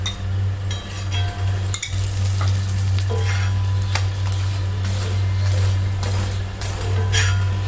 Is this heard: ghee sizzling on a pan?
yes